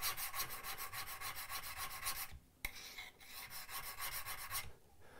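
Hand plane blade being sharpened on its bevel, a steady back-and-forth rasping scrape in rhythmic strokes, close and loud, with a brief pause midway before the strokes resume.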